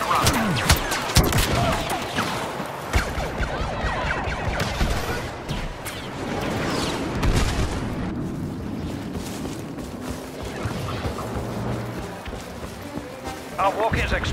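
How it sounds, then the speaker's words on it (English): Explosions and gunfire from a rebel bombers' attack run in Star Wars Battlefront, a dense, rumbling barrage of blasts and shots rolling on throughout, with a voice speaking over the battle. "Rebel bombers are making an attack run."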